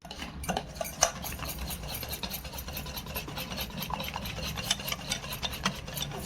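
A spoon stirs a vada pav chutney mixture with water, giving a steady, close scraping and sloshing with light clinks against the bowl throughout. No one speaks.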